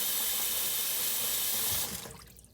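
Daal lentils are rinsed under a running tap, a loud steady gush of water into a bowl that cuts off near the end, leaving a fading trickle.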